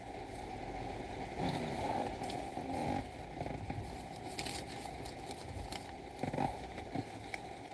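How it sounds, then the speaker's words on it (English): Hard rain from a tropical storm pours down steadily in a soft, even hiss, with occasional heavier gusts and splashes. "It is raining, guys, so hard."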